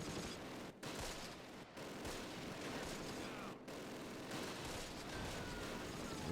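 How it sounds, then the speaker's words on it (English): Sustained blind gunfire in the Close Combat wargame, a dense, continuous rattle of rifle and machine-gun fire aimed at unseen squads, with brief pauses between bursts and no voices. "I'm just gonna blind fire after various squads like that, I guess"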